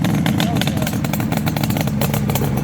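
A 1972 Suzuki GT750, a liquid-cooled three-cylinder two-stroke motorcycle with aftermarket expansion chambers, runs loud and close with a raspy, crackling exhaust burble that holds steady throughout.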